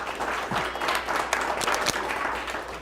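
A thin, scattered smattering of audience applause at a public talk, soft and fairly distant, with no voices over it.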